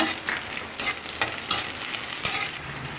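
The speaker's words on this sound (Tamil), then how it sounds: "வெங்காயமும் கருவேப்பிலையும் போட்டு வதக்கிக்கோங்க" Onion, curry leaves and green chili sauté in hot oil for semiya kichadi, a steady close sizzle broken by a few sharp spatula scrapes and stirs, with no voices.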